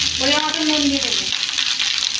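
Fried rice ingredients sizzle in a hot pan, a steady bright crackle throughout, with a short voice at the start.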